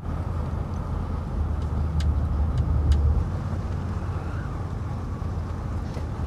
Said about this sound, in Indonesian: Tak diduga, mobil Lee dibuntuti mobil lainnya di belakang.